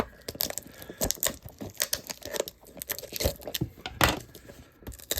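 Close, irregular crinkling and tearing sounds of scissors cutting through packing tape on a box, with sharp snips and rustles in uneven bursts.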